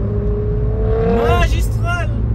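Race car engine at Spa-Francorchamps during the Brûleurs de gommes night event, a loud, close, sustained roar with a rising pitch sweep as the car passes, under a constant engine and crowd rumble, with talk mixed in.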